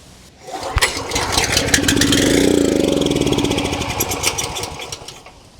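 A small engine sprayed with starting fluid cranks and sputters, catching briefly into an uneven, loud running burst before fading, the strained note rising and falling over several seconds with no one talking.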